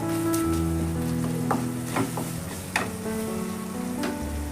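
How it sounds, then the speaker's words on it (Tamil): Chopped tomatoes sauté in a pan for a horse gram curry, giving a steady, moderate sizzle with a few soft stirring scrapes and clicks. A low background hum runs underneath. "இந்தளவு தக்காளி வதங்கினா போதும்"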